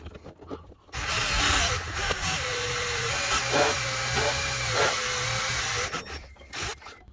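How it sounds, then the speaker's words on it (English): Power drill boring into the ignition lock of a 2008 Volkswagen Jetta: after a moment of quiet, a loud, close, steady whirring grind runs for about five seconds, then stops, followed by faint handling noises. "we're gonna go ahead and start the drill"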